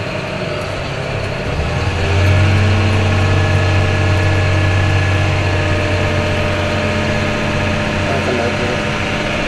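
John Deere tractor with Auto Trac driving across a field, a steady low engine drone heard from the cab, rising slightly in load partway through and holding constant with no talk.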